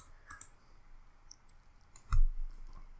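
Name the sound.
mouse clicks on Scratch editor buttons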